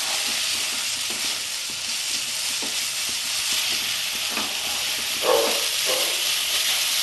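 Bombay duck fish with spices sizzles and hisses steadily in a pan for a Bengali jhuri, with soft scraping stirs breaking through the constant frying noise.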